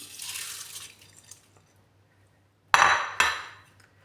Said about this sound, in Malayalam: അരി ഇടുന്നു